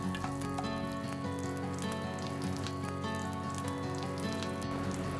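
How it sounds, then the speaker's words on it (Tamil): Curry leaves sizzle and crackle steadily in hot oil in a frying pan while mutton brain fry is being made, a dense, continuous frying hiss heard close up with no voices. "ரெண்டு கொத்து கருவேப்பிலையை பிய்த்து அத்துடன் போட வேண்டும்."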